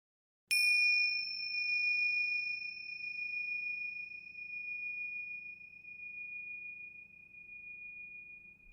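A single bright bell chime rings out as a segment transition, struck once then sustaining a clean, high ringing tone that slowly fades over several seconds above a faint low hum.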